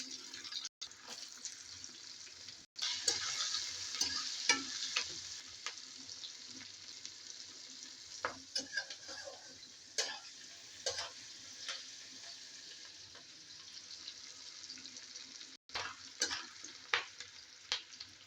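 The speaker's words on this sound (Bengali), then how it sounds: "ফটফট করে ফাটছে। এই আওয়াজটা হচ্ছে এলাচের, এলাচগুলো সব ফাটছে বলে।" Cardamom pods fry with potato, turmeric and chopped onion in a pan, giving a steady sizzle broken by scattered sharp pops and crackles and occasional stirring scrapes, close and clear without speech.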